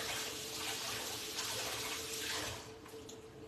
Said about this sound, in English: Let me rinse that off because I need this for